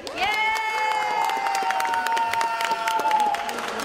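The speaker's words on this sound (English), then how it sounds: "Give me a practice round of applause, please." Comedy gig audience in Bolton cheering and applauding, a loud crowd roar with clapping and whoops, joined by a long sustained shout rising over the noise.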